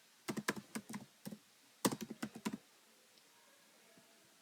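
Quiet keystrokes on a computer keyboard, two short bursts of rapid clicking typed close up, followed by near silence.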